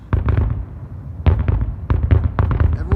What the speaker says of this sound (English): Everyone is enjoying and watching fireworks